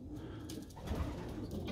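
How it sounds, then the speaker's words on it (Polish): Pigeons in a widower pigeon loft give soft, low coos close by over a quiet background, in a short stretch with no voices. "No i znajdujemy się w gołębniku. Teraz jesteśmy w gołębniku wdowców."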